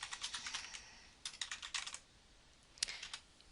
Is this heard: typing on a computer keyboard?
yes